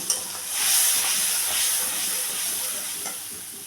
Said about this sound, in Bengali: দিলাম খানিকটা গোটা জিরে, আর আমি যে মশলার পেস্টটা তৈরি করে রেখেছিলাম সেই মশলার পেস্টটাও দিয়ে দিলাম, দিয়ে একটু ভেজে নেব